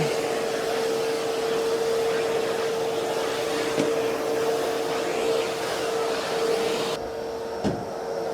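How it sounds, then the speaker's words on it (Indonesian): A household vacuum cleaner runs steadily at close range while cleaning room corners, a constant droning motor hum with a faint thump or two along the way. "Setiap sudut-sudut atau corner kita harus vakum."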